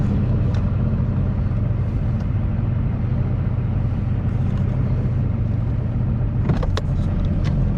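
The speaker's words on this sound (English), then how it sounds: "truck started." A truck engine runs at a steady low idle on a ranch by Greers Ferry Lake, a constant deep rumble close by, with a brief clatter of keys or a rattle near the end.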